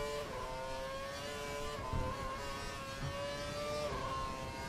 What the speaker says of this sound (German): Hörst du meinen Motor, dann guck mal, wie er klingt.